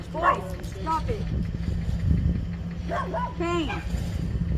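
Dogs whimper and give high yips in several short bursts, mixed with constant talking and a low background hum.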